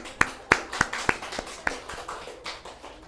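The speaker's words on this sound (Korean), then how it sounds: "우리 환영의 박수" A small group at a church gathering claps in welcome, a handful of sharp, distinct claps in an uneven rhythm close by, tapering into softer scattered claps.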